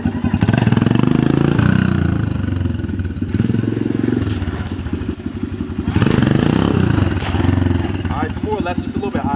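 Honda CRF125F dirt bike engine revving hard during beginner wheelie practice, a loud sustained buzzing drone that rises and falls throughout, with brief thumps and clatter, and a voice talking over it.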